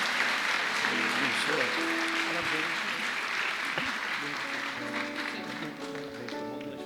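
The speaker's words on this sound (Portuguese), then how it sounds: "Você pode dar uma salva de palmas" A church congregation applauds during an evening worship service, steady clapping throughout with a tonal musical backing and some voices underneath, gradually softening toward the end.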